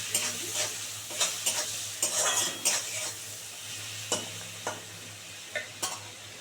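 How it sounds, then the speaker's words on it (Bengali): Prawns frying in a pan, a constant close sizzle with regular metal spatula scrapes and taps against the pan as they are turned, and no voices. "এই যে দিয়ে চিংড়ি মাছটাকে আগে ভালো করে সুন্দর করে ভেজে তুলে নেব"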